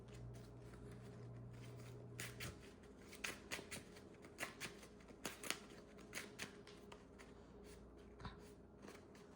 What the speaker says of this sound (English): Shuffle these back in.